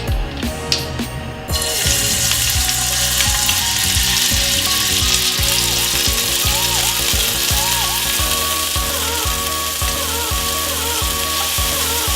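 Garlic sizzles loudly in a pan of hot oil, a steady dense frying hiss with clinks and scrapes of stirring throughout, after a brief burst of running tap water at the start.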